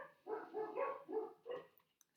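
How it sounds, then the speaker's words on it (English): Several dogs barking from another room upstairs, five or six muffled barks in an uneven run, moderately quiet and heard alone. "Sorry if you can hear my dogs barking upstairs."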